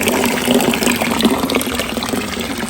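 Clean drinking water gushes steadily from a tap in Bern, Switzerland, a close, continuous splashing rush with no break.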